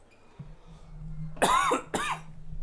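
Two quick coughs close by, following a low steady hum in the background.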